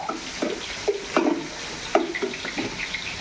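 Onion fries in a pan with a soft sizzle, broken by several short scraping and clattering stirring sounds spread across the moment.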